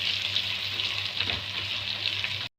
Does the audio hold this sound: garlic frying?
yes